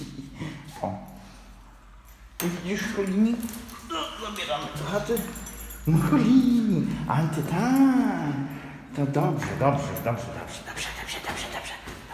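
A dog whimpers and whines in high, wavering cries, close by, while a person talks over it throughout.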